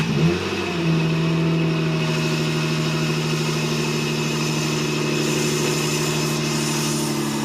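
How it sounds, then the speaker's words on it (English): A 1992 Lexus ES300 engine runs steadily just after a coolant flush, a loud, close, even hum with a slight rev at the start and then a smooth idle with no talking. "Just film the engine. Start this up real quick. Let it run for 10 minutes."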